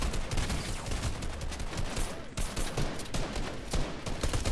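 Rapid gunfire in a video game, including charge shotgun blasts, dense overlapping shots in a continuous noisy barrage at steady loudness.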